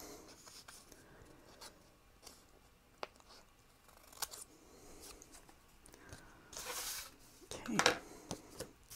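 Scissors snip through paper for a Happy Planner mini dashboard, a few close crisp cuts and paper rustles, with a louder burst of cutting near the end.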